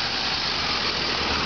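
A fire engine pumper runs steadily at a rural water supply drill, giving a constant, moderately loud mechanical drone with no break or change in pitch.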